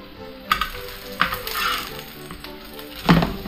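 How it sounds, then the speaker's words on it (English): Cabbage frying and being stirred in a pan while catfish is cooked katsu-style: a steady sizzle runs throughout, broken by a few sharp scraping clacks of the stirring utensil, the loudest near the end. "Yep, just stirring some cabbage."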